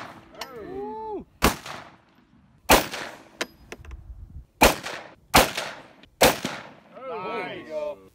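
A novelty Busch Light gun fires about five loud, sharp gunshots at irregular intervals outdoors in cold weather, each shot echoing briefly, with people talking and laughing between shots.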